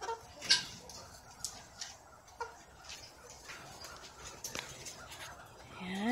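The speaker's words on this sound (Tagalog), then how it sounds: "Yung aking dalawang sisiw." Two pet chicks peep and chirp with thin, scattered cheeps, fairly faint against a soft background of household noise.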